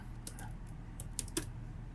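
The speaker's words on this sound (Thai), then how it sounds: "อันนี้ผมก็พิมพ์ง่ายๆนะครับ" Keys clack on a computer keyboard while someone types a short text entry, a few soft irregular taps close by against a faint steady room hum, with no talking.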